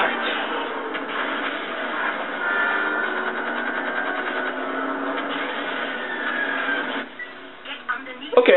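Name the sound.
train in 007 Everything or Nothing video game train chase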